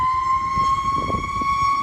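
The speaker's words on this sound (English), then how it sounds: "let that ambulance pass" Ambulance siren wailing on a steady piercing tone in LA County, loud and near, with low traffic rumble underneath.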